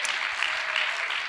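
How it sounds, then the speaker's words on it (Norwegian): Steady applause from an audience at the JK Nordisk 2020 event as Olaug Bollestad is called up on stage: dense, even clapping throughout, close and fairly loud, with no one speaking over it. "Ja, det fortjener en skikkelig applaus."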